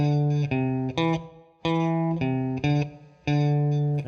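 Overdriven electric guitars play a steady rhythmic riff in parallel harmony, the notes repeating in short, punchy groupings with brief pauses.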